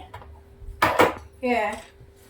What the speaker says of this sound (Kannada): ಕುಕ್ಕರ್ ಇಡ್ತಾ ಇದ್ದೀನಿ.